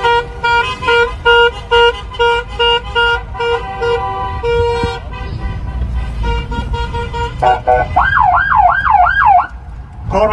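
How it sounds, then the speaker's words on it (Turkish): Car horns from a wedding convoy honking in repeated rhythmic toots, overlapping with a warbling siren-like horn toward the end, loud and close amid street traffic. "Korna çalan araç sürücüleri"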